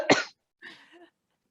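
Two coughs from a woman: a sharp loud burst followed after a short pause by a softer, rougher second cough, close and alone.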